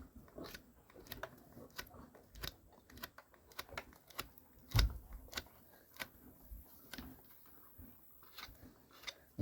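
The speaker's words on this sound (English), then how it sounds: "Take my hoof knife, and there's like a mound of sole that's right there, and so I'm going to cut that off before I use my rasp." A hoof knife pares a raised mound of sole from a horse's hoof during shoeing, producing a close run of short, irregular scraping and cutting clicks with one firmer cut partway through, with no talking.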